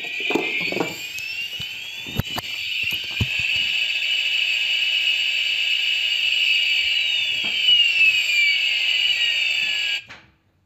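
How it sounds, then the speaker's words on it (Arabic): A car's reversing alarm, newly installed, sounds as a steady high electronic tone with sweeping pitch changes and a few clicks near the start, running continuously for about ten seconds before cutting off abruptly. "بهذه الطريقة نكون قد قمنا بتركيب منبه الرجوع للخلف"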